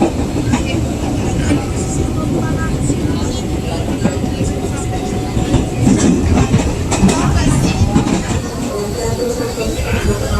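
A commuter train runs toward Pasar Senen station, with a loud, continuous rumble, rail clatter and rhythmic clicking of the wheels, and voices faintly underneath.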